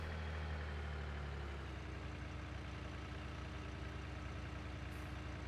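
Tractor engine in Farming Simulator 19, a steady low droning hum that shifts slightly in pitch early on and then holds constant, fairly quiet with no talking.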